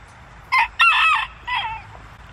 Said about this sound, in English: You still need to work on that crow.